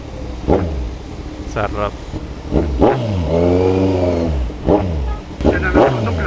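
Kawasaki Z1000 motorcycle engine revved in several sharp bursts, with one longer sustained rev in the middle, loud and nearby, with someone talking between the blips.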